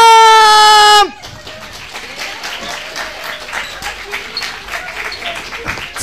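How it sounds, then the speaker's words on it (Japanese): A loud sustained tone cuts off, then an audience at a live idol event applauds steadily to welcome performers, a crowd of clapping hands with a sharp tonal sound rising over it. "盛大な拍手でお出迎えください"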